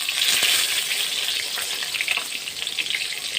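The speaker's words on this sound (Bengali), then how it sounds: "বড় বড় বেগুন দেখে ভাবলাম কি চার পিস ভাজা করি" Large eggplant slices frying in hot oil in a pan, a loud, dense, continuous sizzle close by, with faint crackles and no voices.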